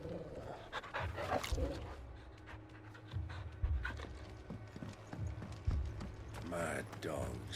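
Dogs panting in the Final Fantasy XVI video game, rapid rhythmic huffs close up, mixed with thudding footsteps and creaks from the game scene.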